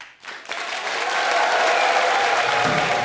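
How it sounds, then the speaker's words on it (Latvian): A studio audience on a late-night comedy show claps to rate a pitch, the applause swelling quickly from a brief quiet start into loud, sustained, even clapping that continues to the end. "Parādiet aplausus uz 10."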